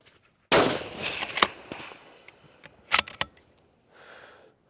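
A Remington 700P rifle in .308 Winchester fires at an outdoor range, sending out a few loud, sharp cracks spaced seconds apart, each with a short rumbling tail. Quiet gaps fall between the shots.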